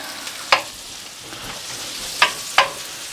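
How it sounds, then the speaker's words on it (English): Shrimp and kokanee sizzle in a pan with gochujang, a steady close fry broken by three sharp stirring clatters, with no talking. "We're gonna throw some shrimp in here."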